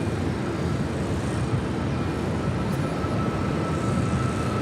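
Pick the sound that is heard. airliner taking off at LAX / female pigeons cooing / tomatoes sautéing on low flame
airliner taking off at LAX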